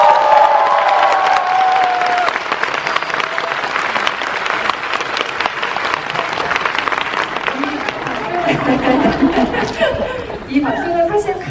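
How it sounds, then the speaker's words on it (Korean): A Korean audience applauds and cheers at a live talk event with a director celebrating Parasite's Palme d'Or win, steady loud clapping filling the room with crowd noise and some chatter. "이 박수는 사실 칸에서도 많이 받으시긴 했지만 한국 관객들이 쳐주시는 박수이기 때문에 조금 남다른 박수일 것 같고요"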